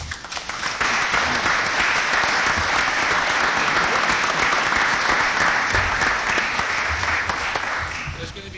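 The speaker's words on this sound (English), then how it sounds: "A big round of applause for you and us and the whole process." Sustained applause from an audience at a political event with journalists, dense steady clapping lasting several seconds and fading slightly at the end.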